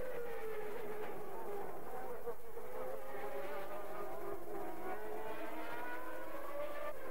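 Formula 1 cars of the 1991 season, Nigel Mansell among them, scream down toward the first corner, their high, buzzing engine notes sweeping and shifting pitch as several cars pass at a distance.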